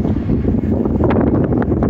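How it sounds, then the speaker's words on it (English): Heavy wind buffets the microphone in a constant low roar with gusty thumps throughout; no voices. "it's real windy back here"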